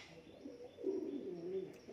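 A pigeon coos softly in a low, steady murmur that lasts about a second, faint and nearby against a quiet background.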